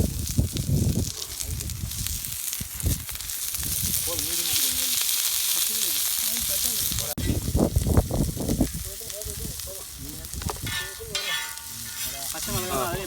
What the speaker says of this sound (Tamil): இந்த வெங்காயத்தை கொஞ்சம் போட்டு வேக விட்டுமாண்ணா.